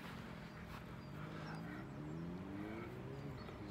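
A motorbike crosses a park at a distance, its faint engine drone rising in pitch as it passes, low and distant under the quiet surroundings.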